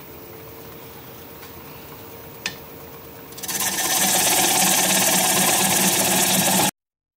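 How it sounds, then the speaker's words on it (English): A wood lathe spins a yew natural-edge bowl at about 500 RPM while a 1/2 inch standard grind bowl gouge removes the tenon; steady motor hum, then a loud, continuous close-up cutting hiss starts partway through. "we'll start with a 1/2 inch standard grind bowl gouge to remove that tenon. And we'll be turning about 500 RPM"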